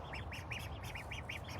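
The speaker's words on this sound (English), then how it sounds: "He's a mallard duck baby." A mallard duckling named Quackers, rescued from a storm drain, peeps in a steady series of about eight quick, high, evenly spaced calls, close and clear over a low background hum.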